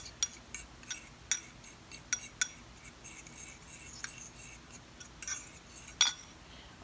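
Seasonings for a pork roast being mixed, heard as light, irregular clinks and taps of a utensil against a dish, close and fairly quiet, with a sharper clink near the end.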